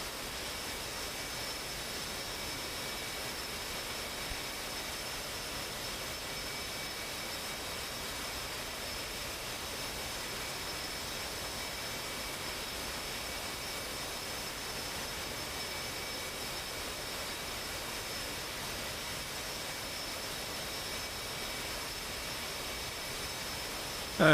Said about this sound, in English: As 343rd get their engines on.